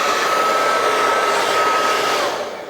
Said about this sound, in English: I'm going to get a hairdryer and shove that hairdryer on.